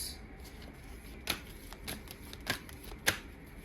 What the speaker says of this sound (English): let's put all the cards out